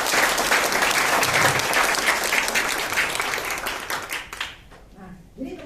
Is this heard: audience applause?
yes